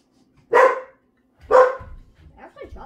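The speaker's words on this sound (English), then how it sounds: "the mail's here and the dog's all crazy" A dog barks twice in sharp, loud bursts about a second apart as the mail arrives at a house, followed by softer yips and whimpers.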